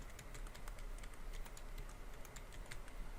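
Fingers tap out text on a computer keyboard in a quick, uneven patter of light clicks, quiet and close, with no talking over them.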